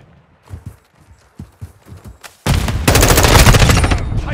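Loud, sustained automatic gunfire erupts in a Call of Duty: Modern Warfare 2 third-person moshpit match, following a couple of seconds of quiet footsteps and light clatter.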